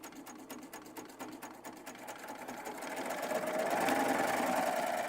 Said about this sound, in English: And I'm going to lower my presser foot. And I'm just going to sew away.